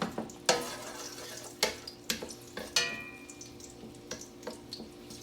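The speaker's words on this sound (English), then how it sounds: "As you can see, it's starting to sizzle here" Food cooking in a pan on turned-down heat, a soft sizzle running under a series of sharp clanks and stirring knocks from utensils against the pan, close by.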